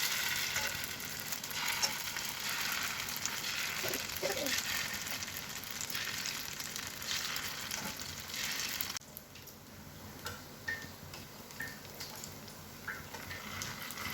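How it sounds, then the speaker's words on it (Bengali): Chhena fritters frying in oil in a kadai, a dense, steady sizzle and crackle heard close and alone throughout, dipping slightly quieter partway through as the fritters settle. "আস্তে আস্তে আমি প্রত্যেকটা বড়া এইভাবেই ছেড়ে দেবো।"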